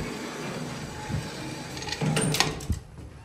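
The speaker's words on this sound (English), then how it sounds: "All right, let's close the door." A freight elevator door on a Tejas hydraulic freight elevator at the West Mall Building, UT Austin, closes with mechanical rattling, a few clunks and a sliding rumble near the end, heard close against a steady background hum.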